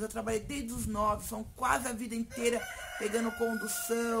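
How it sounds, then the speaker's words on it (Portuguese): Backyard chickens cluck repeatedly and a rooster crows nearby, loud and close, while someone talks over the birds throughout. "Olha o barulho que vocês ouvem das minhas galinhas."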